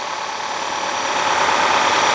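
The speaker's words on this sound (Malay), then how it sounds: "ini adalah bunyi enjin" A 2021 Honda City RS e:HEV hybrid engine idles steadily at close range, a smooth, fairly quiet hum that builds slightly in loudness, with no voices.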